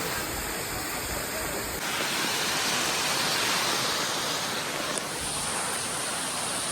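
Steady broadband rush of Tuisoi Waterfall, a continuous hiss of falling water heard from some distance, with faint voices now and then.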